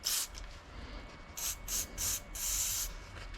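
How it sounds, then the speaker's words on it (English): Brake cleaner is sprayed from an aerosol can onto a paper towel while servicing an Adam Drake AD4 motor: a quiet, close hiss in about five short bursts, the last one held longer. "I like to get a bit of brake cleaner and then just come along into here, take this and just spray a bit on there."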